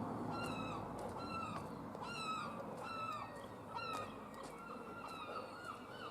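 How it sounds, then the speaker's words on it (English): Gulls cry repeatedly in a busy chorus, their harsh, descending calls overlapping against a steady outdoor rumble. "Noisy seagulls."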